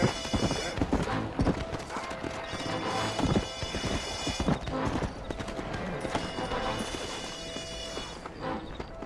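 Horse hooves clip-clop steadily in a Western video game, several horses trotting together in a dense, busy mix with occasional clatter and background voices.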